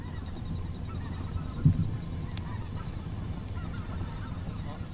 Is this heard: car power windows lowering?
no